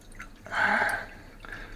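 Water dripping and trickling through a large punched crack in a plastic water bucket, a short close splash swelling in the middle with lighter drips before and after.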